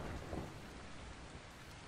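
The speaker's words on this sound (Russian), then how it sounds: "Дождь. Гроза." Heavy rain pours steadily in the zombie survival video game Dying Light, with a low rumble of thunder underneath, a dense, continuous hiss with no voices.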